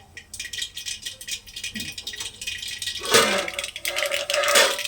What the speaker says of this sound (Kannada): ಸಾಸಿವೆ ಪಟ್ಪಟ್ ಅನ್ನುತ್ತಲ್ಲ